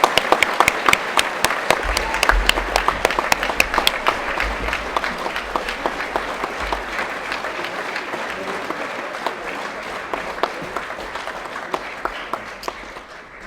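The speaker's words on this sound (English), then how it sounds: "So a big round of applause for Jodie Anderson" An audience at a 2022 high school prize giving claps loudly and steadily for about fourteen seconds, a dense sustained patter of many hands that eases off slightly toward the end.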